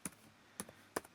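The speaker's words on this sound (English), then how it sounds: "Just type in me password here." Keys clatter on an MSI Apache Pro gaming laptop keyboard as a password is typed, in three short separated bursts of crisp clicks, close and fairly quiet.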